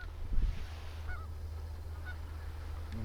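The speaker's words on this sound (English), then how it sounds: "These geese are coming." Geese flying in toward decoys during a goose and duck hunt, giving a few distant honks over a low steady rumble, with no talk.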